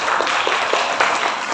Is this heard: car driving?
no